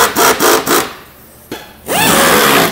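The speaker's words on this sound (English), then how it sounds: "Drive a lag screw through the center" A lag screw is driven into a plastic PolyJohn PJN3 portable toilet unit, giving a few short grinding bursts, a pause, then a longer rising, whining drive, close and loud.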